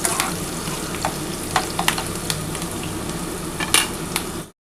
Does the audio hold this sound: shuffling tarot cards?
no